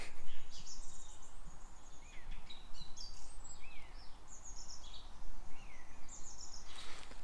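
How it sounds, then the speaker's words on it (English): Several birds chirp and warble in short high phrases, moderately distant, over a steady low background hum with no talking. "The birds sound nice though."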